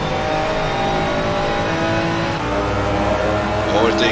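Race car engines roar and rev as cars fight for position in a sim racing event in Assetto Corsa Competizione, loud and continuous, with a rising engine pass near the end.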